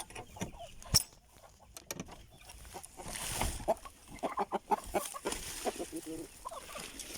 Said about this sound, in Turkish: Tavuklarımızı çıkartalım.